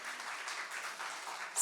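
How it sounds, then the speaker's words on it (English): Soft, steady clapping from an audience at a conference technical session on skin care, heard at a moderate distance for under two seconds, with a brighter burst at the very end. "Let's clap so that, we get to know that we all are here"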